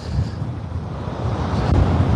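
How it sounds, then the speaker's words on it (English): Strong seaside wind buffets the microphone on a cold day by the pier at Cromer, North Norfolk, a steady low roar that swells slightly toward the end, with no voices. "Bit of a windy one"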